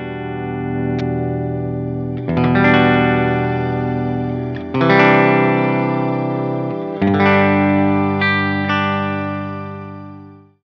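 Electric guitar played through a GFI System Specular Reverb pedal: strummed chords ring out in several sustained bursts, each swelling into a wide, shimmering wash with a long decaying tail, loud and close with no talking.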